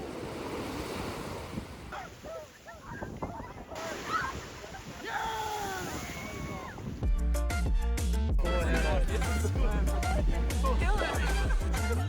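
Beach ambience on a summer day in Chile, with waves washing and wind rumbling against the microphone while voices talk over it, growing louder and fuller in the second half.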